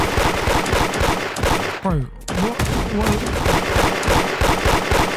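Rapid gunfire in the Roblox game Da Hood crackles in quick, steady bursts throughout, loud and close, with a brief chirping effect midway and a short spoken word over the shooting.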